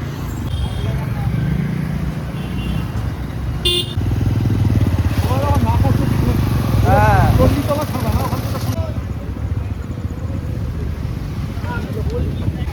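A motorcycle rides along a road carrying passengers, its engine droning steadily under heavy wind buffeting, with people talking and calling out over it and a brief horn-like tone partway through.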